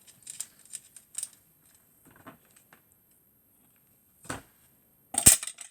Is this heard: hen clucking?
no